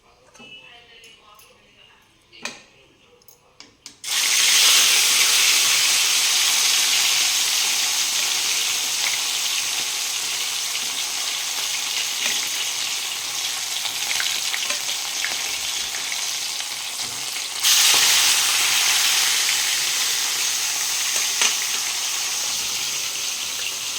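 Fish frying in hot oil, a loud, continuous sizzle that bursts in suddenly after a few quiet seconds and keeps hissing steadily, swelling again partway through.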